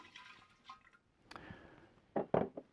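Brandy, eight ounces, poured into a bowl of eggnog mix, a soft short liquid splash and gurgle that swells near the end, close by and alone.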